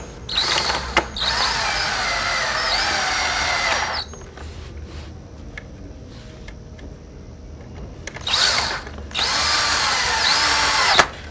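A power drill drives screws into pre-drilled holes to fasten a T-post into a frame for decorative panels, in two loud close bursts of whirring with a quiet gap between them and no talking.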